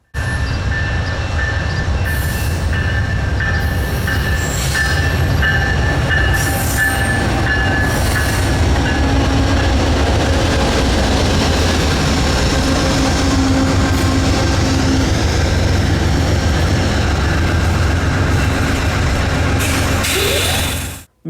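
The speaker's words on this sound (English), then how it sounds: "the Amtrak Southwest chief showed up with the Pepsi can trailing second as well as a Phase 5 liter" Amtrak's Southwest Chief passenger train, a Heritage-liveried P42 locomotive trailing second in the consist, rolls past in Galesburg, Illinois, with a loud continuous rumble of wheels and cars, faint squealing and a horn-like tone early on.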